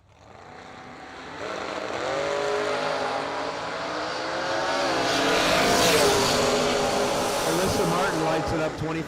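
A Camaro launching down a drag strip at an SFG Christmas Bash event, engine revving up in rising howling pitch sweeps that build and hold loud for several seconds before easing off.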